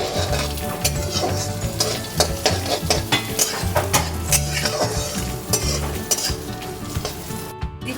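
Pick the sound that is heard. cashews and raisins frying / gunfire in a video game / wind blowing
cashews and raisins frying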